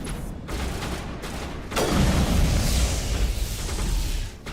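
Gunfire from a sniper rifle in the video game Mass Effect 1, a few muffled shots giving way to a loud, sustained roar of blasts and rumbling explosions.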